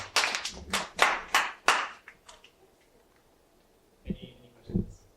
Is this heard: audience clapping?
yes